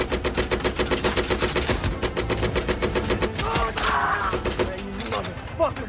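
Machine-gun fire from a tank battle in the war film Fury: rapid, evenly spaced bursts of loud automatic gunfire, with shouting voices and explosions mixed in toward the end.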